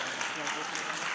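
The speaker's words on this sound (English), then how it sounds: "I think I deserve applause for that." Audience applause at a literary seminar in Key West, a steady, fairly faint wash of clapping throughout the short moment with no talking.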